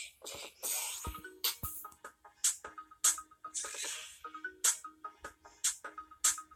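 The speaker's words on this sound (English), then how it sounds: "That would be a pretty good ringtone." A ringtone plays a song, with repeated punchy electronic beats and bright synth hits in a rhythmic loop, faint and alone without talk.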